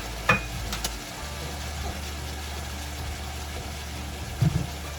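Onion hits a hot pan of browning ground beef for a keto broccoli slaw stir fry, giving a steady low sizzle with a couple of brief clatters from stirring, no talking.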